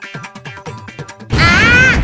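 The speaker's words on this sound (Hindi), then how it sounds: "सर पद्दू के इस बॉक्स में था पटाखा।" Cartoon sound effect of a firecracker bursting inside a box: a sudden loud crash that holds as a dense, sustained blast after a stretch of soft, scattered tapping sounds.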